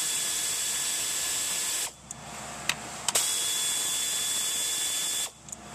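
A power tool, likely a drill or ratchet, whirs steadily while a 10 mm ignition coil bolt is backed out on a Nissan Sentra. Two short runs are split by a brief pause with a couple of clicks.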